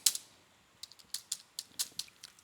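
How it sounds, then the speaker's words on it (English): Quick, crisp keystrokes on a computer keyboard, entering text during a Stata session, tapped in short irregular bursts at close range with quiet gaps between them. "And obviously we have to type"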